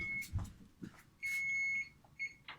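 A kitchen timer beeps while waffles cook, giving several short electronic tones and one longer steady beep, fairly faint, with a few soft clicks and knocks between them.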